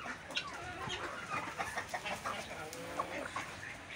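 Hens and chickens pecking at berries, giving soft, faint clucks and murmurs in a quiet, continuous chatter close by.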